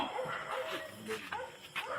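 A dog that had bitten someone gives short yips and barks amid agitated human voices, close and under talk.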